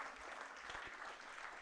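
Audience at an IEEE Delhi Section inaugural ceremony applauding an honoured academic, a faint, distant wash of steady clapping with a couple of low thumps.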